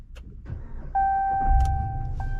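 A 2022 Ram 1500 Limited pickup is started by push button with a foot on the brake: soft clicks, then a steady electronic tone, and the engine catches into a low, even idle rumble close by.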